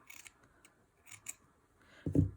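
Several quick, crisp scissor snips trim excess textile scraps while a fabric pendant is being made, ending with a louder soft thud up close.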